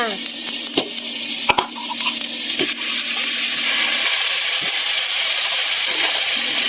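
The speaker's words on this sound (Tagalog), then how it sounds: "Halu-haluin lang natin saglit ang baka para ma-absorb niya yung mga ricados na linagay natin" Beef sizzles loudly in a pan with garlic and onion, with scraping stirs and utensil clinks at the start and a steady frying hiss throughout.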